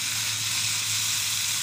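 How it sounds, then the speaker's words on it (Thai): Fish and chips frying in hot oil give off a steady, close sizzle with a bright bubbling hiss that holds constant throughout and has no voices over it. "นะทอดไปเรื่อย"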